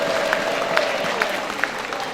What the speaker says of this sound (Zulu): Asishayeni ihlombe bazalwane,